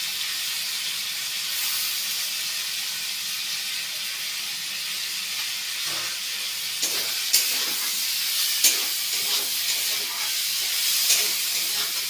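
Green chillies and coriander leaves hiss and sizzle steadily in a hot pan, with a few sharp clinks and stirring taps breaking through the constant frying noise.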